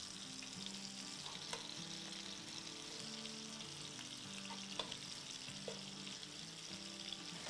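Seekh kababs fry in a pan with a steady, soft sizzle, broken by a few sharp clicks and taps as they are turned over.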